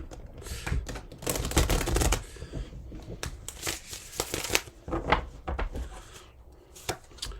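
Tarot cards are shuffled by hand in quick riffling bursts, close and fairly soft, with irregular pauses between the crisp paper snaps.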